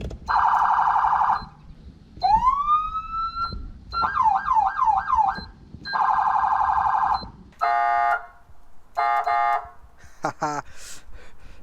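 A loud 200-watt police siren fitted to a Las Vegas police car cycles through wail, yelp, hi-lo and other tones in short bursts, close by and dominant, with faint background noise.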